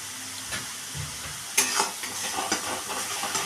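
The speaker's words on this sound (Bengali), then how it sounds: "এইবারে আমি মশলাগুলোকে ভালো করে কষিয়ে নিচ্ছি।" Spices with Kashmiri chili powder sizzle as they are fried and stirred for a Bengali soybean and potato curry, giving a soft crackling hiss broken by occasional scraping bursts of the utensil.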